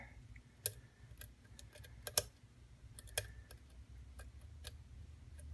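Faint, sharp clicks from picking a modified Trekmaster 30 lock, scattered irregularly and heard close up against a quiet, low background hum, with no speech.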